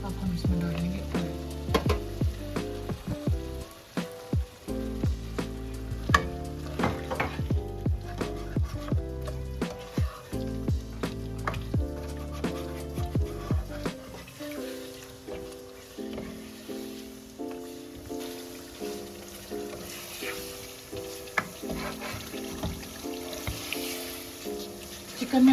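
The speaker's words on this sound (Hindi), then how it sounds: "चिकन गल गया, इसमें ऑयल डाल के हम अच्छी तरह भून रहे हैं।" Chicken with garlic, onion and tomato fries in oil, a steady sizzle running throughout beneath prominent background music.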